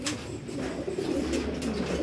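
Soft, repeated low cooing of racing pigeons inside a breeding loft, close and steady, with rhythmic throaty calls overlapping one another.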